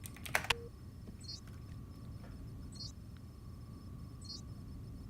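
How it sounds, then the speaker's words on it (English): Quick burst of typing on a computer keyboard entering a command in the IFSCL game, a few rapid clicks up front, then faint isolated taps against a steady low hiss. "So we're going to type in .desert."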